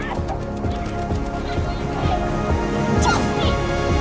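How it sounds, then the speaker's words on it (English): Minecraft chickens cluck and squawk in short bursts throughout, mixed with game sounds and other noise. "Sorry, chickens!"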